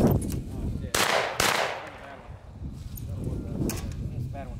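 Shotgun blasts at a skeet range, two sharp loud reports close together near the start followed by fading echo, with people talking and outdoor bustle through the rest.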